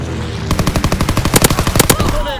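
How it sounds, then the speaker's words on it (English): A fighter plane strafes the ground in the World War II shooter game Call of Duty: WWII, with loud rapid bursts of machine-gun fire rattling in a fast rhythm after a brief lead-in. "Fighter pilot inbound, strafing the target"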